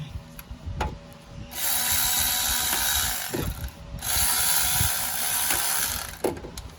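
A cordless impact wrench breaks bolts loose on a 2016 Land Rover 2.0 during a water pump job, two long loud rattling bursts of hammering with clicks and handling noise between them.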